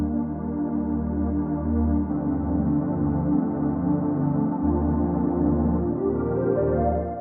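Sustained synthesizer pad chords hold steady, shifting harmony every second or so beneath a soft, pulsing low tone.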